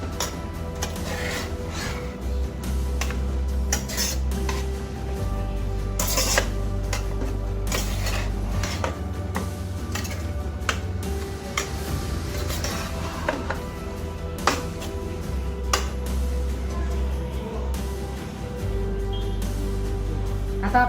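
Chicken biryani masala with marinated chicken being stirred in a pot, a steady clatter and scrape of a spoon against metal with rhythmic clinks and a low continuous background hum, no talk.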